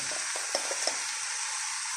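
A soft, steady sizzle of apple frying in a pan for chutney, with a few light stirring clicks near the start.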